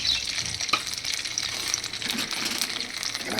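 Poppy seed paste spatters and sizzles in a hot pan of fish curry, a steady bright frying hiss with faint stirring scrapes and clinks, fairly quiet and without talk.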